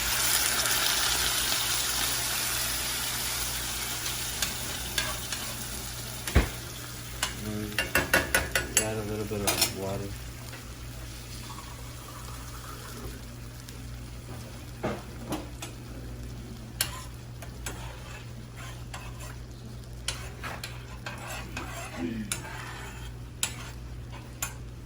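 Tomato sauce goes into chicharrones in a hot pan, with a soft steady sizzle under the repeated clatter and scrape of a utensil stirring against the pan, including a brisk burst of stirring early on.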